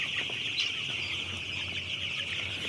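Around 500 chickens in a poultry farm shed cluck steadily and densely throughout, a continuous close chorus of hens with no talking.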